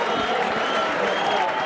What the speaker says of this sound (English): A big crowd assembled here at Willispool